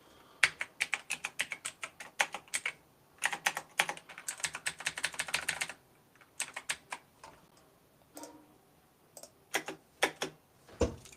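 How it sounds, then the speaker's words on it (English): Someone types on a computer keyboard in quick bursts of clattering keystrokes, separated by short pauses, close and clear with no talking. "What is with this keyboard, bro?"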